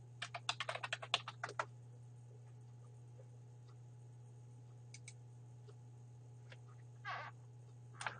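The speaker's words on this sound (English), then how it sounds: "And then type in your username and password." Quiet keystrokes on a computer keyboard while typing a username and password, a quick burst of taps at first, then sparse isolated key presses over a low steady hum.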